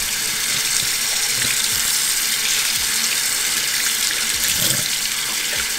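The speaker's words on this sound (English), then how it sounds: "So I'm going to just run it underwater." Running water from a tap, a steady close hiss and splash with no break, as small lights are held under the stream.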